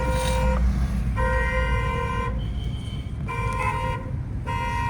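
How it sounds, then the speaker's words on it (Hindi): A vehicle horn blares repeatedly in long insistent honks, four or five in a row, over a constant engine and road rumble. "अब जैसे देखो यहाँ 5-6 बार आपने हॉर्न बजा दिया।"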